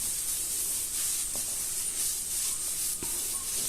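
Chilli powder and garam masala fry in a pan for spicy masala bread toast, giving a steady loud sizzling hiss with a couple of faint clicks.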